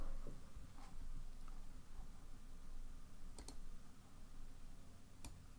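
Steady typing on a computer keyboard, soft and close, with a continuous patter of keystrokes and a few sharper clicks standing out over quiet background hiss.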